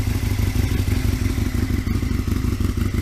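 An Aprilia RSV Mille 1000 motorcycle engine idles while warming up with its stock exhaust, a loud, steady, rumbling throb with a rough pulsing beat and some mechanical clatter, close by throughout.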